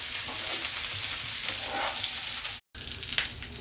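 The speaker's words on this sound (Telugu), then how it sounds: "7-8 జీడిపప్పు పలుకులు. ఇవి వేయించుకుందాము." Cashew nut pieces frying in oil in a pan give a steady, close broadband sizzle that runs continuously, with a brief cutout near the end before the hiss resumes.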